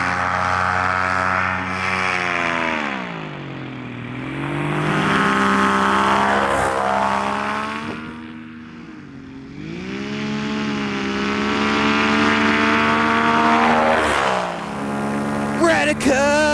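A single aircraft engine drones steadily in flight, its pitch sliding down and back up twice as the power changes, loud and continuous with no talking.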